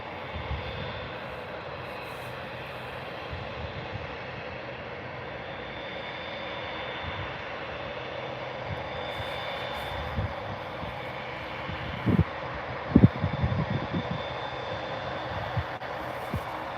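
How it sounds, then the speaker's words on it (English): A Boeing 787-8 airliner at Birmingham airport, heard as a faint, distant, steady jet roar that holds throughout, with a few brief knocks nearby. "Just waiting for this 787-8, guys."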